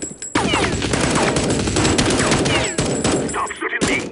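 Gunfire in the game Counter-Strike 1.6, dense overlapping rapid-fire bursts from automatic weapons, loud and continuous with brief pauses, close to the listener.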